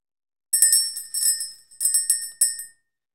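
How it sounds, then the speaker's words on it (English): A small bell is rung to clear energy, giving four bright, ringing strikes in quick succession. Each strike fades briefly before the next, close and clear against silence. "we're going to ring the bell, clear the energy"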